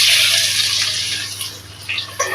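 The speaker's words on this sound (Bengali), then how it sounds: "এখন পেঁয়াজ কুচিটা দিয়ে দেব" Chopped onion dropped into hot oil already used for frying dried fish, a loud hissing sizzle at first that eases slightly, with a few sharp spatters near the end and no talk.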